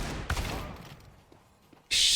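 Gunfire in the video game Avowed, with a sharp shot at the start, a quieter burst and then a loud, bright blast of fire at the end, heard close and without talk.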